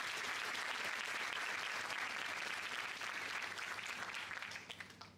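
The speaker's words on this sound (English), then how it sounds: "Let us all give a big round of applause to Sir." An audience claps for a speaker arriving on a campus to give a talk on education, a dense, sustained round of applause from a crowd that holds steady and then tapers off near the end.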